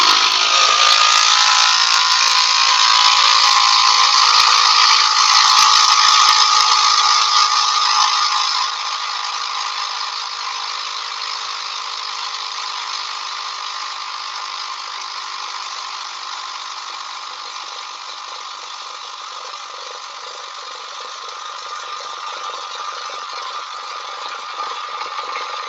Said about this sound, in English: It's driven by a little motor.